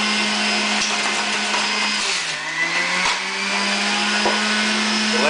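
A juicer grinds chilli and ginger with a loud, steady motor whine close by. Its pitch sags briefly as the load bites, then settles, with a few sharp knocks over the hum.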